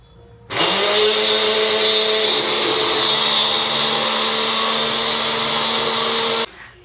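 A mixer grinder whirs loudly as it grinds paneer tikka masala, starting abruptly, holding a steady high-pitched motor drone for about six seconds, then cutting off.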